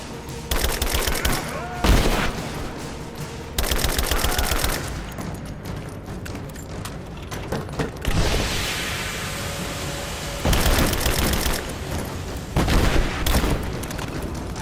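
Sustained gunfire in a video game firefight in Rise of the Tomb Raider, loud bursts of automatic fire and booming shots repeating in dense clusters with brief lulls between them.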